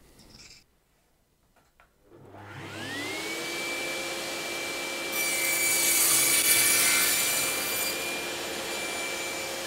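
A Festool table saw with SawStop technology spins up with a rising whine, then its blade bites into a wooden board and cuts through it with a loud, steady rasping roar over the motor's sustained tone.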